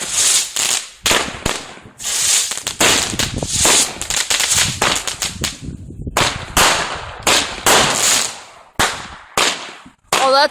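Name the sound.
fireworks: toot and twirl, Magnum shell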